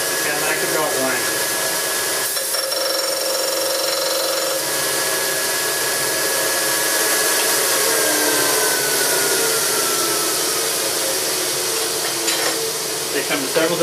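A Burr King 760 belt grinder runs steadily with a smooth motor whine and belt hum, holding a constant loud drone throughout.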